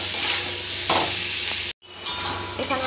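Chilli powder, turmeric and salt frying in a pan, a close steady sizzle with stirring scrapes, cut by a brief silence before the sizzling resumes.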